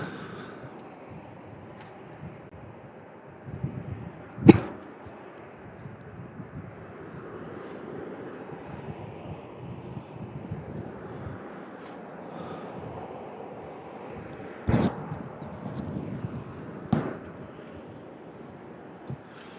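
A Southwest airliner departing Louisville International Airport makes a faint, steady, distant jet rumble that lasts throughout, broken by a few sharp clicks and knocks.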